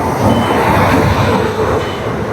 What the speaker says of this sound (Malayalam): നമ്മുടെ തൊട്ടപ്പുറത്തെ 1ാമത്തെ പ്ലാറ്റ്ഫോമിലേക്ക് ഒരു ട്രെയിൻ വരുന്നുണ്ട്.